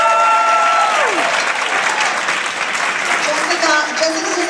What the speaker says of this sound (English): you really deserve another round of applause